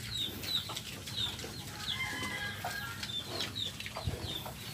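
A mother hen clucking in repeated short, sharp calls close by, with rustling and light scratching in the background.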